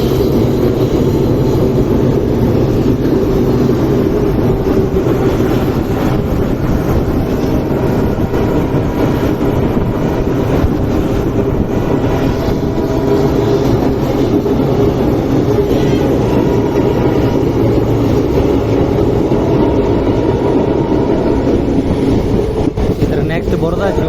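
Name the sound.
diesel-hauled Shivamogga–Mysuru Express train 16226 running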